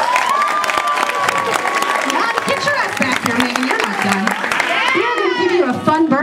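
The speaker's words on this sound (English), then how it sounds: "Give her a round of applause." Applause and cheering from a birthday-show crowd, dense clapping mixed with whoops while a voice carries a sustained sung or shouted line over the top and people chatter throughout.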